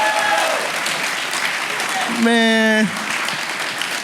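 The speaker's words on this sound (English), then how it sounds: "Can we get a round of applause" Audience applause at a live All-Star Weekend show in San Francisco, a steady wash of clapping and cheering from a crowd throughout, with a voice and a brief tonal horn-like sound partway through.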